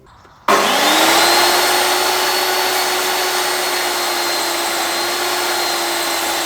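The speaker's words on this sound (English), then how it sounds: "With all that power, it will come as no surprise that this is a loud saw." A DeWalt DWE7485 table saw switches on abruptly and runs at full speed, a loud, steady, high-pitched motor whine with a constant tone that holds without voices.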